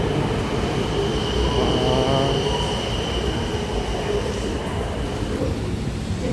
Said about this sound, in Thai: เป็นรถไฟนะครับ